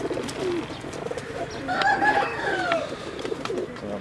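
Black and blue Teddy pigeons cooing nearby, soft rolling coos rising above a murky background, one fuller call standing out mid-way.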